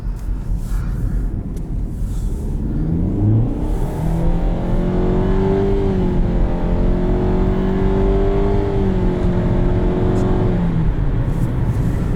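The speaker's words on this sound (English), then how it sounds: "I will pop it into sport mode for the acceleration test" A 2020 Nissan Rogue SV AWD in sport mode accelerates hard from inside the cabin, its engine drone rising steadily in pitch and holding high revs over constant road and wind noise.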